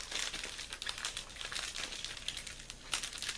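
A package is torn at by hand, producing close, continuous crinkling and crumpling of packaging material with short scratchy bursts.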